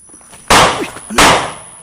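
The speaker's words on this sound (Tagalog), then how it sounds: "Putok yun ang baril ah." Two sharp, loud gunshot reports ring out close by about two-thirds of a second apart, each followed by a short decaying echo, with faint voices in the background.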